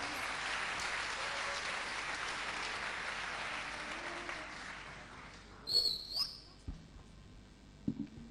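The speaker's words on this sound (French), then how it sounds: "Sous vos applaudissements" Audience clapping at the final of a youth voice contest, a broad wash of applause that fades out midway, followed by a few bright whistle-like electronic tones and scattered thumps.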